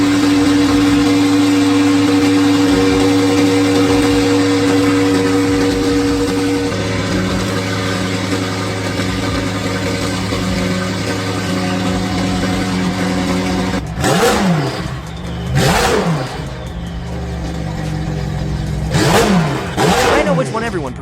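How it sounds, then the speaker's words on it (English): A McLaren 720S engine with a newly installed exhaust hums steadily at first, then revs sharply several times, with loud throaty bursts rising and falling. "he starts the car again to hear how it sounds with the exhaust installed."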